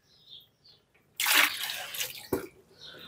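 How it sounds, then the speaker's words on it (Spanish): Water gurgling and splashing in a pipe as a homemade pump lifts it, first faint drips and trickles, then a sudden loud rush of bubbling water with a sharp splash near the end, close by. "Ahí comienzan las primeras burbujas a subir."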